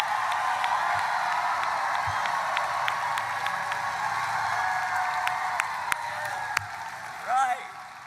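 Audience applause for a political speaker addressing first-time voters, a sustained steady patter of clapping with sharp isolated claps standing out, fairly distant, ending with a brief voice over it.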